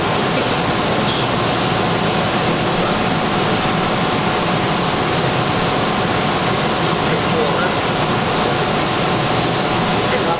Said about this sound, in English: Looks like we're in the process of sparging right now. I see the shower running.